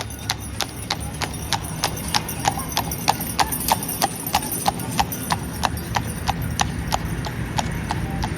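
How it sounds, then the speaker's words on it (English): A horse-drawn ride clip-clops along a Blackpool street, with steady, evenly spaced hoof strikes ringing on hard pavement at close range over a constant background of outdoor town noise. "I can hear the clippy cloppy of a ride coming through"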